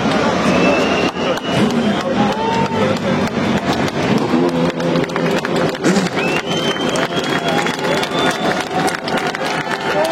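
Race car engines start up trackside at the 24 Hours of Le Mans, a dense, loud roar of revving motors blended with crowd noise and scattered cheering throughout.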